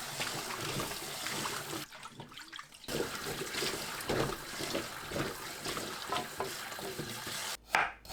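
Ginger rinsed clean under running water from a kitchen tap, a steady close splashing and trickling that runs almost the whole time with a brief dip partway and a short burst near the end; no talking.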